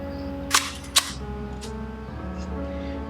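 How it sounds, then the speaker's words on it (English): Kiev 88 6x6 medium-format film camera shutter fires with two sharp, close clicks about half a second apart over a steady background hum. "So just fire the shutter"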